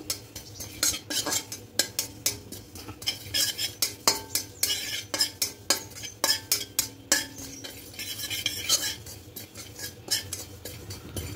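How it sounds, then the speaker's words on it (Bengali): Dry poppy seeds are stirred in a wok with a spatula, giving a rapid series of close scraping and clinking strokes against the metal, with a faint sizzle between them and no talk. "পোস্তটা একটু হালকা নাড়াচাড়া করে ভেজে নেব।"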